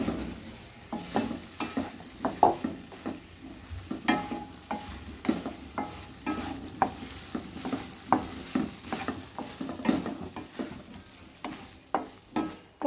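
Wheat kolukattai dumplings simmering in a thick masala, with repeated scraping stir strokes over a soft bubbling sizzle, close and irregular, no voices.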